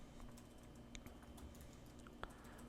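Quiet, irregular clicks of typing on a computer keyboard, soft and close, with scattered keystrokes and one slightly louder tap, over a low steady hum with no talking.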